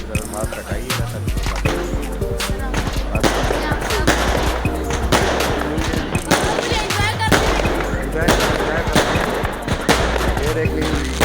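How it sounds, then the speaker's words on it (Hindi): New Year fireworks going off in dense, rapid volleys of loud crackling bangs, like firecracker strings, continuing throughout with a low rumble and faint voices in the crowd. "ये देखिए आप देख रहे हैं ज़बरदस्त आतिशबाजी हो रही है, ज़बरदस्त आतिशबाजी।"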